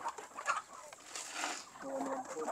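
Native chickens in a breeding pen give faint, scattered clucks under a person talking nearby.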